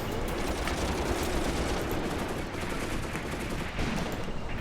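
Sustained gunfire during a WW2 tank battle in Graviteam Tactics, Croatian Legion forces firing at enemy tanks, a dense, continuous rattle of shots and distant blasts without a break.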